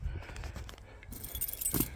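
Keys for a 1980s VW T25 camper van jangle briefly and faintly in a quiet interior, a light metallic rattle that grows slightly brighter toward the end.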